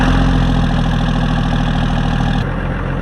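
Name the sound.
Cummins diesel truck engine warming up, idling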